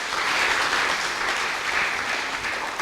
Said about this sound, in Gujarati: એમના માટે પહેલાં એકવાર જોરદાર તાળીઓ થઈ જાય